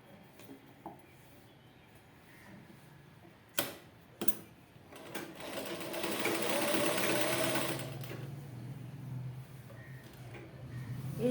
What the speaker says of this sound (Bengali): এরপর আমি সেলাই করে নিচ্ছি কাপড়টা বসিয়ে।